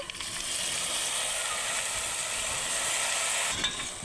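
Village-style tamarind chutney is stirred into a hot tempering of garlic, curry leaves and asafoetida, making a steady, close frying sizzle with soft stirring scrapes throughout.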